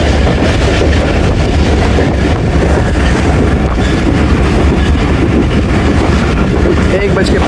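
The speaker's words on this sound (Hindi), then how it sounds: "सराय आलमगीर स्किप कर रही है 13 अवाम एक्सप्रेस" The Awam Express runs through Sarai Alamgir station without stopping, a loud continuous rumble with rattling wheels and wind buffeting close by, a voice faintly underneath.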